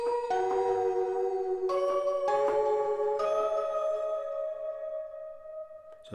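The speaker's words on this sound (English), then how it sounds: "So we've got synth stab 2 and bells 2." A sampled MPC-style synth stab layered with a bright bell preset, playing sustained chiming tones that shift pitch in several steps, with a reverb tail, loud and continuous, alone.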